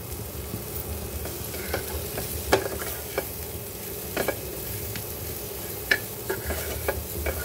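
Green chillies with salt are stirred in a pan for pickle, an ongoing low sizzle broken by irregular sharp scrapes and clicks of the spoon against the pan, close and moderately loud.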